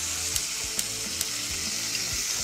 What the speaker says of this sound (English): you want to continue to stir to make sure to activate that cornstarch slurry